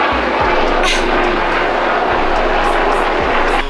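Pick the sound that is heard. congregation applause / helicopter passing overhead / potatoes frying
helicopter passing overhead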